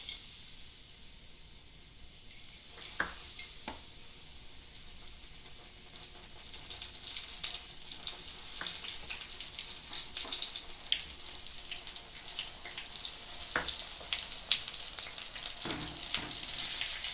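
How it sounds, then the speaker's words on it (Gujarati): Potato-slice bhajiya fritters deep-frying in hot oil crackle and hiss close by, starting quieter and swelling into a dense, continuous bubbling sizzle with scattered sharp pops. "જો આપણા ભજીયા ફ્રાય થઈ ગયા છે."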